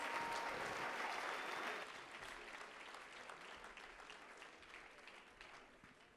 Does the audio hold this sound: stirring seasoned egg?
no